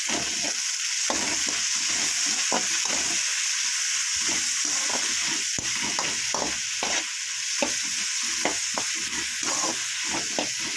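Tomatoes and green chillies sauté for a Tamil-style crab gravy, a steady loud sizzle and hiss in a hot pan with irregular stirring scrapes and clicks throughout, and no voices.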